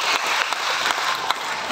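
A trained sea lion slaps its flippers together on command, giving a dense run of close, wet clapping slaps that carry through the whole short stretch without talk.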